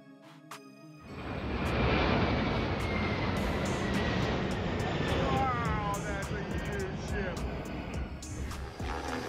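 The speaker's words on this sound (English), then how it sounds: "Crews of firefighting aircraft have to fly at extremely low altitudes." A firefighting aircraft passes at very low altitude, its engine roar sweeping in abruptly and staying loud and close before slowly fading, with faint clicks and voices under it.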